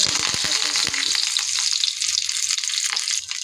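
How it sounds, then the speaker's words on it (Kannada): Mustard seeds sizzle and pop in hot oil for a beetroot stir-fry, a bright crackling hiss with sharp spattering pops at the start that settle into a steady fry. "ಎಣ್ಣೆ ಇಟ್ಟಿದ್ದೀನಿ ಕಾಯಕ್ಕೆ ಸಾಸಿವೆ ಸ್ವಲ್ಪ ಹಾಕ್ಕೊಳ್ತಾ ಇದ್ದೀನಿ"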